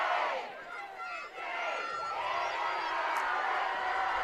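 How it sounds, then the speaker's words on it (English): A crowd at a women's under-19 lacrosse world championship semifinal between Canada and England cheers loudly for Canada, a sustained roar of voices and whoops. "As the cheer goes up here for Canada, as Kylie Dobson hands it off."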